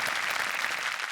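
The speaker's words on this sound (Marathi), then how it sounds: "विक्रम काकांसाठी जोरदार टाळ्या" A studio audience at a Marathi comedy show gives a brief burst of dense, even applause.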